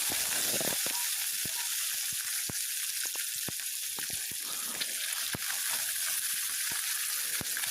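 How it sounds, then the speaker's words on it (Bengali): Salted, turmeric-coated puti fish frying in hot mustard oil in a kadai over a medium gas flame, a steady soft sizzle broken by sharp pops and crackles, with no talk. "মাছটাকে কিছু সময়ের জন্য ভেজে নেব"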